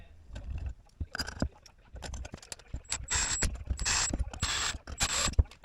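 Screws being driven into an IAME KA100 kart engine during a rebuild, heard as a series of close mechanical ratcheting and clicking bursts, with short pauses between tightening runs.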